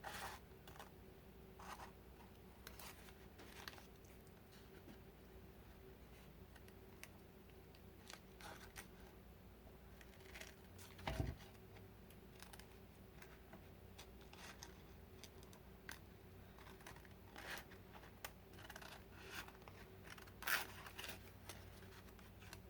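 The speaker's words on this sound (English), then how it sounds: "now I'm going to cut away the excess napkin" Scissors snipping excess paper napkin from dried index cards for a small handmade notebook, faint sparse clicks and cuts spread irregularly over a quiet room.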